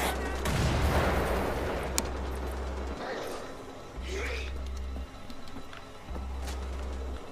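Bursts of gunfire in the video game Wolfenstein: The Old Blood, dense rapid shots and booms repeating in chunks, with talking over the action.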